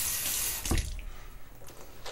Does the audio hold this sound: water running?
yes